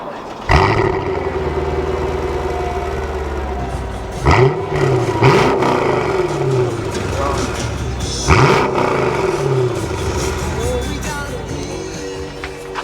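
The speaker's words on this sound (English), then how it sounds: "he's going to start it up" A modified-exhaust Mercedes SLK55 AMG fires up with a loud roar, then settles into a burbling idle punctuated by two sharp throttle blips that swell and fall, recorded close to the car with brief voices in the background.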